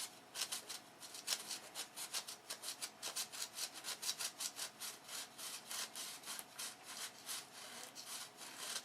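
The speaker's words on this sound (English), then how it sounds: "Then feather sand this edge right here into that" Sandpaper feathering the edge of a wooden aircraft wing tip, a steady run of close, rhythmic rasping strokes repeating about twice a second with no voices.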